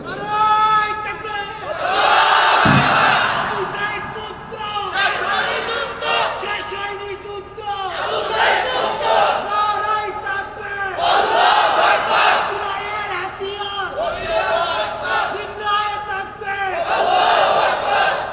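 A large crowd at an Islamic waz sermon gathering chants a slogan in loud unison. The rhythmic shouted phrases repeat continuously throughout, with voices swelling and dipping over a busy, echoing hall.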